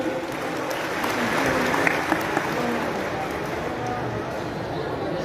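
An audience at a formal gathering with guests from Papua and Sabah, Malaysia, gives a steady round of applause at moderate volume, a continuous wash of clapping with a few sharper claps standing out.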